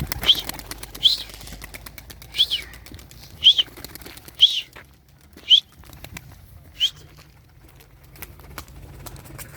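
Tumbler pigeons flapping their wings as they take off, several sharp bursts of wingbeats spaced through a fairly loud, close outdoor scene with no talk.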